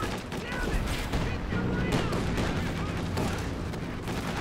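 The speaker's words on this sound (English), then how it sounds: "how often do you see that much explosions and aircraft involved?" A Company of Heroes 2 battle with aircraft involved: continuous gunfire, rapid bursts and explosions at mid distance form a busy, rumbling din, with a voice talking faintly under the combat.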